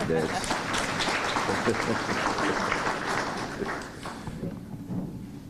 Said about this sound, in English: I thought we were going to applaud that